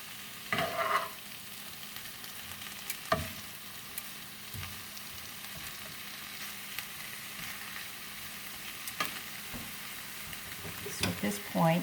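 Greens sautéing over medium-high heat in a hot pan, a soft, steady background sizzle broken by occasional sharp clinks and scrapes of stirring; quiet and fairly distant, no talking.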